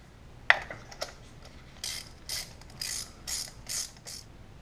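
Ratcheting clicks from a hand tool as a spark plug is screwed back into a 1999 Lexus ES300 engine, short bursts of quick clicking strokes repeated several times, close up and fairly quiet, with no talking.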